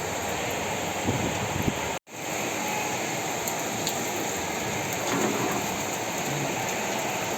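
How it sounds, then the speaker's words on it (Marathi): Heavy rain pouring steadily, a dense close hiss of water on surfaces with a brief cut partway through. "बघा हा पाऊस काय पाऊस बघा"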